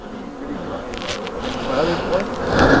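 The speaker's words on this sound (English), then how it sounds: "I don't want to decimate this hive too much, but I need a few more bees for her." Honey bees drone around an open hive during a beekeeping workshop, a steady close buzzing hum that swells toward the end.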